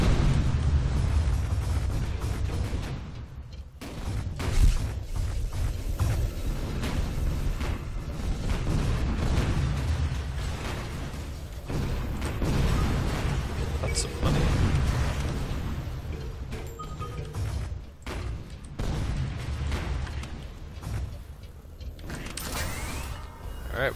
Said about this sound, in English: Oh, big cannon.